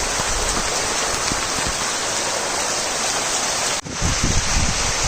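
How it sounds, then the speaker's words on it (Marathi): Heavy first pre-monsoon rain pours down in the Konkan under dark clouds, a loud, dense, steady roar of falling water with a brief dip near the end before it surges back. "कोकणातला हा पहिलाच पाऊस आहे वळवांचा पाऊस आम्रसरी म्हणतात तू आहे पण हा खूप जास्त जोरातच आला आहे"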